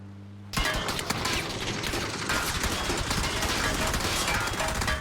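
A sudden burst of rapid, continuous automatic gunfire erupts after a brief pause and rattles on loudly and densely without letting up.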